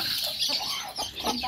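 Hens and chicks clucking in a farm shed, close and continuous, with soft cackles and peeps overlapping.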